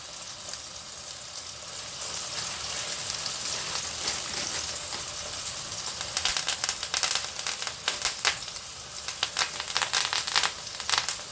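Steak sizzles in a hot pan with thyme and rosemary, a steady loud hiss and crackle that grows busier with sharp spitting pops toward the end.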